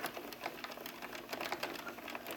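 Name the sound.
Addi Express knitting machine running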